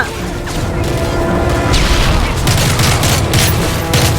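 Dense, loud gunfire from the Call of Duty Modern Warfare 3 video game during a desert battle, with sustained automatic bursts and booming blasts running throughout under a continuous roar.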